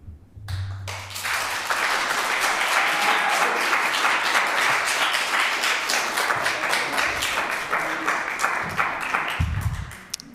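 Applause at a planning commission meeting: a crowd claps loudly and steadily for about ten seconds after a brief pause, then the clapping trails off.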